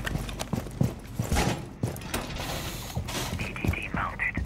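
A wall being reinforced in Rainbow Six Siege on the Plane map: steady clanking and ratcheting mechanical noise with sharp metallic knocks, fairly close and loud, under other in-game sounds.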